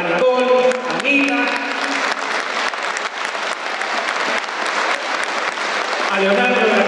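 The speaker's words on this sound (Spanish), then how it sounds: "para quienes les vamos a invitar un fuerte aplauso a Nicole, a Nina" Loud, sustained applause from a crowd at an outdoor rural community celebration for Farmer's Day in Negrete, Chile, steady clapping throughout with voices mixed in.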